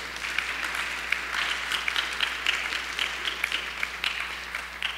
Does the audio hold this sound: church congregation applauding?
yes